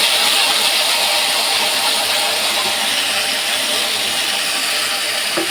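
Ground paste of cumin, green chilli, garlic and onion sizzles in hot oil, a loud, steady hiss filling the whole stretch with no pause and no voices.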